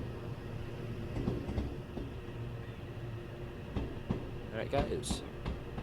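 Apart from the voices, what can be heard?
train clickety-clack over track joints in Train Sim World 4 video game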